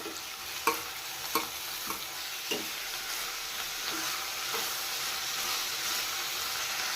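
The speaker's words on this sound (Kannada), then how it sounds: "ತರಕಾರಿ ಚೆನ್ನಾಗಿ ಫ್ರೈ ಮಾಡ್ಕೋಬೇಕು." Carrots, capsicum and other vegetables for restaurant-style fried rice sizzle in a pan, with a few sharp spatula clacks early on over a steady frying hiss that grows slightly fuller toward the end.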